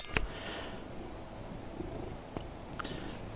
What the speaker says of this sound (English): there's a happy cat around.